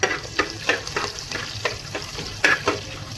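Green chillies frying in hot oil in a pan for a vegetable bath, a continuous close sizzle broken by regular scraping stirs about every third of a second, no talk.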